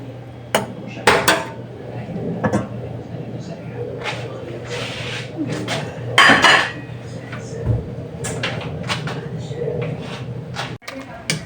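A spoon scrapes and clanks inside a cooking pot of ginataang halo-halo with sago, irregular metallic knocks and stirring scrapes throughout while a person talks over them.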